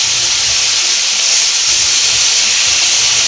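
Sirloin beef steak sizzles steadily in a hot pan for tacos, a close, continuous hissing spatter with no talk over it.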